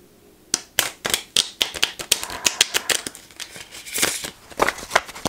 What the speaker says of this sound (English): So now I'm gonna shuffle my cards.